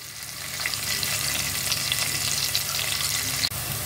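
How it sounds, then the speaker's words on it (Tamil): Small onions fry in hot oil in a pan for a lentil-ball curry. A dense, loud, continuous sizzle holds steady throughout with no voices, broken only by a brief dip just before the end. "வெங்காயம் நல்லா வதங்கட்டும்."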